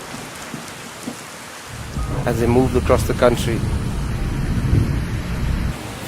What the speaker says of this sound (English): First with a drizzle, then came the showers.